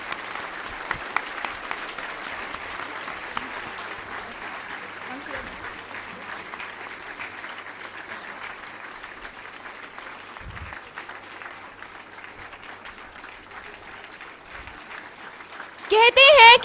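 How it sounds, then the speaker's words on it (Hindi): An audience at a school ceremony in Delhi applauds in sustained, even clapping that runs steadily for about fifteen seconds, then a voice speaks over a swell at the end. "तालियां बजती रहनी चाहिए."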